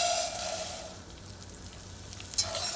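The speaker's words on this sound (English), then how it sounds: "It's starting to sizzle." Rice sizzling in heated oil in a pan, a close, steady crackling hiss that dips briefly then swells back, with a small clink near the end and no talking.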